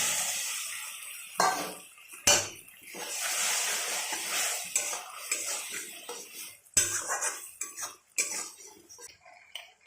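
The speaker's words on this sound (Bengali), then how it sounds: "এবার সসটা দিয়ে কিছুক্ষণ ভালো করে নেড়ে চেড়ে নেব।" Sauce is stirred into a pan of paneer chilli with a metal spoon, giving uneven scraping and clinking against the pan, a soft sizzle between strokes, and a few sharp knocks.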